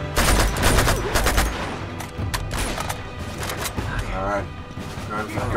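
Rapid bursts of gunfire crack and pop through a firefight in the video game Uncharted 2, dense at first and then thinning into scattered shots, with someone talking over them.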